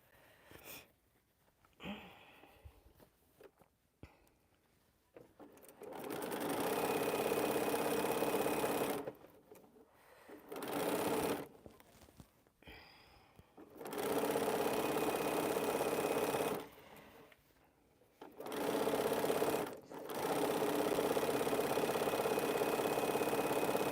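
Sewing machine stitching quilt pieces together in a small sewing space, running in several sustained bursts of steady motor whir separated by short pauses, loud and close.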